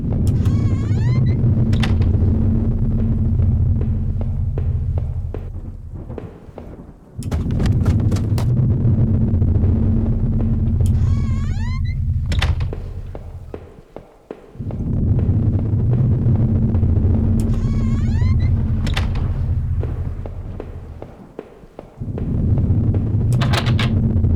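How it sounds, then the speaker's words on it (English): A basement door in the video game Home creaks open several times, thin wavering groans rising over a steady low ambient drone, with quieter gaps between each creak. "Basement door."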